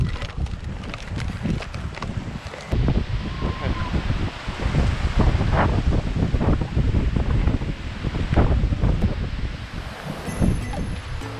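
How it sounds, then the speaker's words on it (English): Strong gusty wind from Hurricane Dorian buffets the microphone at a beach with heavy low rumbling, mixed with surf noise and occasional rustling, steady and loud throughout. "This wind is crazy."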